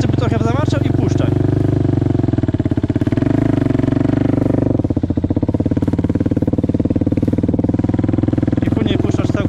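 A quad bike engine idles and is given light throttle to rev slightly, a loud, close, steady motor drone that swells and dips, with people talking over it.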